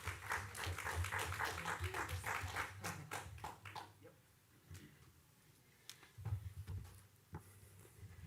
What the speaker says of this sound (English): Round of applause for the Wallmans.